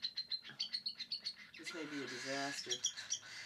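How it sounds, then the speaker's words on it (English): Hungry baby birds begging to be fed, with rapid repeated high cheeps and squawks rising into a louder, sustained begging burst midway, alongside a person talking. "this is the noise that a baby bird makes to trigger its parents to feed it"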